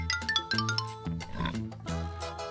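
A pig oinks amid a bouncy musical backing, with snorting grunts rising over the plucked, rhythmic tune for a couple of seconds.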